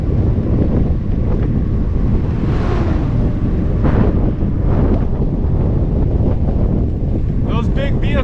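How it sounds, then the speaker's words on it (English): Heavy wind rush roars over the microphone of a cyclist descending a road as big vehicles pass. Loud and continuous, it swells in gusts and carries faint indistinct sounds underneath. "Those big vehicles always give you like a gust of wind."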